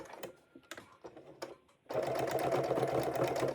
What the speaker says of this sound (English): lower the foot again, and continue stitching to the end of the curve.